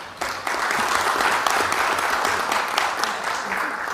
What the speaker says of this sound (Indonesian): Luar biasa, ya, anak muda cerdas, kita kasih aplaus.